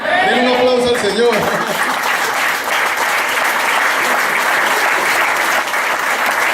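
A church congregation bursts into loud, sustained applause after a brief moment of a voice, the clapping continuing evenly to the end.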